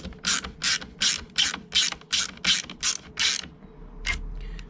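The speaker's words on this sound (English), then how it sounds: "So let's pop these screws in." A hand ratchet clicks in a steady run of about ten rasping strokes as screws are driven into a VW T5 wing mirror, each stroke close and crisp, ending with a final lone click.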